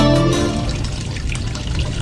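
Water gushes steadily from a faucet into a bucket, a loud, close, continuous splashing pour with no talk.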